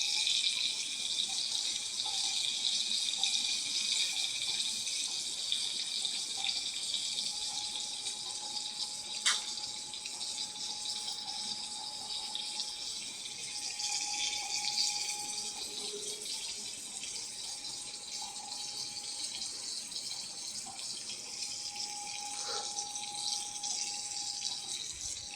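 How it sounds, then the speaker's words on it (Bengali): Pointed gourd (potol) pieces fry in a pan, producing a continuous bright hiss at moderate distance that holds steady with little variation and only an occasional faint clink. "ভালো করে লাল লাল করে ভাজতে হবে পটলগুলো"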